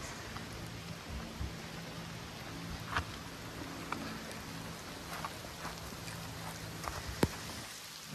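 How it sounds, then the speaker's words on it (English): Steady heavy rain pours down in a torrential rainstorm, a dense hiss with occasional sharper drops and splashes standing out, continuous throughout with no talking. "Rain just keeps coming down harder and harder."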